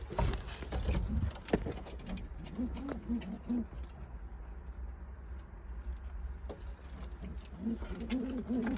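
Pigeons cooing inside a coop, soft repeated low coos in short bursts, fairly faint and close, with occasional rustling and knocks in between.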